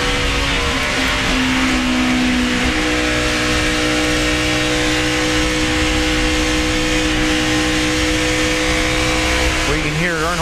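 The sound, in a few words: NASCAR stock car engines, driver feathering the throttle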